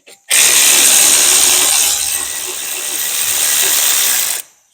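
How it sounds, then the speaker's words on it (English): Close and loud, an electric ratchet turns a 17 mm socket on a swivel while removing front brake parts from a Subaru Impreza, giving one sustained high-pitched whirring buzz of about four seconds. "electric ratchet 17. with a swivel."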